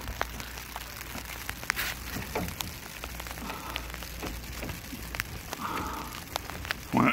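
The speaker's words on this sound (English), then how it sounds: "the rain has let loose from the sky" Steady rain falls outdoors during a towbar repair on an RV, a soft constant patter with scattered sharper drops and light knocks, heard fairly faint and without voices.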